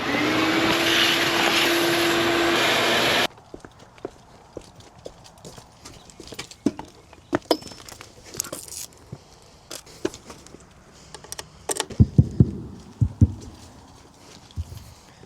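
Shop vacuum runs loud and steady for about three seconds while cleaning out an electrician's work truck, then shuts off, leaving scattered knocks, clatters and rustling of tools and materials.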